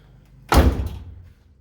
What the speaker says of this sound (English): So now when my door shuts,